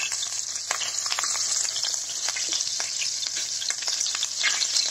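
Home-made pork fat (salo) sizzles and crackles steadily in a frying pan, a dense, continuous fry with scattered sharp pops, close and fairly loud, with no talking.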